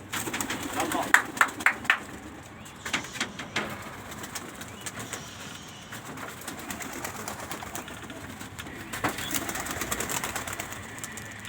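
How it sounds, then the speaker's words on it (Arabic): Pigeons coo softly at moderate distance in an outdoor setting among domestic pigeons, with a few brief louder calls early on and a background murmur of activity; someone talks over part of the sound. "الحمام يمشي ويكيفنا"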